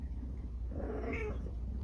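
A pregnant stray female cat gives a single soft meow, fairly close, over a constant low indoor hum.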